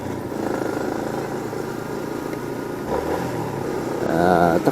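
A motorcycle rides at easy speed along a wet, muddy road in the rain, its engine humming steadily with a rising rev near the end, heard from the rider's position.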